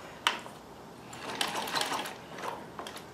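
A Necchi Supernova Ultra Freearm 3 sewing machine stitching, heard as a run of soft mechanical rattling and whirring bursts alone in a quiet room, with a sharp click near the start.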